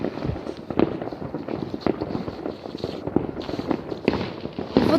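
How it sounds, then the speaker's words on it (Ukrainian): New Year's Eve fireworks burst all around: a dense run of sharp cracks and pops, some near and loud and others farther off, firing in irregular clusters with a few heavier bangs over a constant crackle. "Везде салюты."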